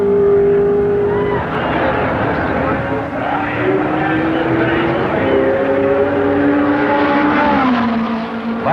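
Racing cars roar past during the 1969 Sebring 12 Hours endurance race, engines rising and falling in pitch as they pass on the circuit, loud and continuous with a voice speaking over the din.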